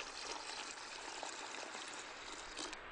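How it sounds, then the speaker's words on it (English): Water poured steadily into a bucket of fishing spod mix, a continuous close splashing and trickling stream with no break. "I'm going to need to add some water to this now to get it milked up."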